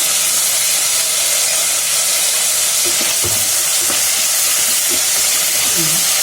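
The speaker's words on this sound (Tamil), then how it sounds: "இது கொஞ்சம் வெங்காயம் வதக்கட்டும்." Onions for a South Indian vegetable kurma sizzle steadily in a hot pan, a loud continuous frying hiss with a few faint scrapes of stirring underneath.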